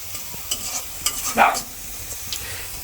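Utensil stirs food frying in a pan in a village kitchen, a few scraping strokes with one louder clattering stir near the middle over a soft background sizzle.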